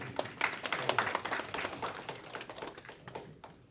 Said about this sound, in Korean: 여러분들이 일단 박수로 무사히 귀환하신 것을